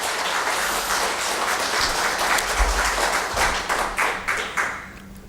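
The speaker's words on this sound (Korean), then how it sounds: "우리 그런 마음을 담아서 우리 같이 한번 박수 한번 하겠습니다" Church congregation applauding together, a close, dense patter of many hands clapping at a steady level that thins into a few scattered claps and fades out at the end.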